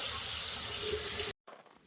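Tap water gushing steadily from a faucet at a camp just after a frozen pipe was thawed, a loud continuous hiss for over a second before abruptly cutting off, followed by faint dripping and splashing.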